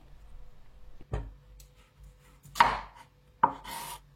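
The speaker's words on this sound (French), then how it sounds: "Je coupe les extrémités. Je coupe également un petit peu à la longueur de la courgette pour avoir une base stable." A knife chops through the ends of a courgette on a cutting board, three crisp separate cuts spaced about a second apart, close and clear with no talking.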